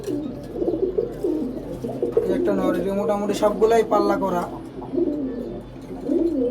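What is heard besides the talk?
pigeons cooing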